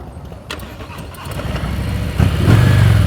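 A motorcycle engine during slow-speed riding practice, idling low and then rising as the throttle is held steady, close by and building in loudness toward the end.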